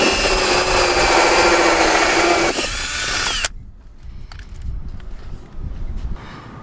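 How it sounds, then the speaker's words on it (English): A power drill with a hole saw whines loudly as it cuts a hole for a boat holding tank's pump-out fitting, then stops abruptly, followed by quieter handling and clattering sounds. "drill it with a hole saw"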